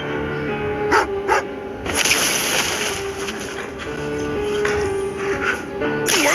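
A dog in Genshin Impact barks twice in quick succession, clear and close, followed by a steady ambient wash with talking over it.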